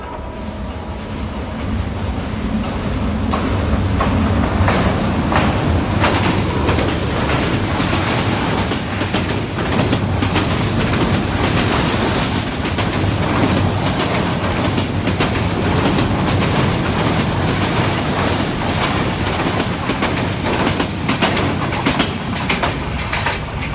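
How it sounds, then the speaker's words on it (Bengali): A train rolls past close by, a loud continuous rumble with rhythmic clacking of wheels over rail joints throughout, no voices. "ট্রেনের শব্দটা খুবই ভালো লাগে"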